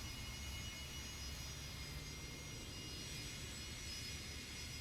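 Steady, continuous jet engine roar from a Just Flight F100 airliner in a flight simulator game, a broad even whine and rumble holding at constant level throughout with no talking.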